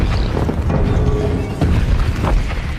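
Explosions around a laboratory in a film scene, a dense, loud run of deep booms and rumbling blasts with crackling debris, continuous with no talk.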